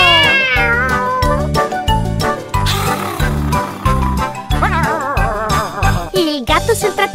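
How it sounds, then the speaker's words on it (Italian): A cartoon cat meows repeatedly in an animated Italian children's song about farm animals riding a tractor, with the rising and falling meows sung loudly over bouncy, upbeat music. "Il gatto sul trattore fa miau miau"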